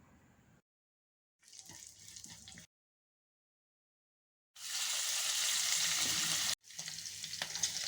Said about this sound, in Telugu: ఫ్రైడ్ రైస్ కోసం పోపు చేస్తున్నా అండి.